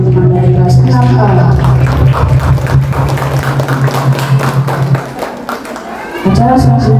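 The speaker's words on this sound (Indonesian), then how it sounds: "Beri tepuk tangan yang meriah sekali lagi teman-teman dari kelas 6A." Loud, dense applause from a school crowd clapping for class 6A at an elementary school farewell ceremony in Medan, steady for about five seconds, dipping briefly, then swelling again, with a constant low hum beneath.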